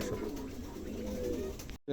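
Two long-bodied domestic pigeons coo in a continuous low murmur, close by and steady, with a faint background hiss and a brief cut of silence at the very end.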